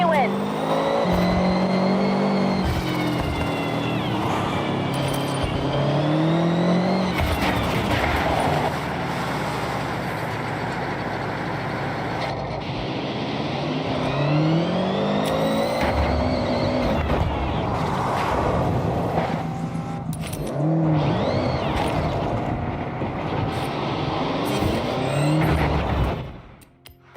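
A Honda City from Forza Horizon 6, driven with manual shifting and assists off, revs and accelerates loudly and steadily across the whole stretch, engine pitch climbing and dropping through gear changes with brief tire noise, continuous and close.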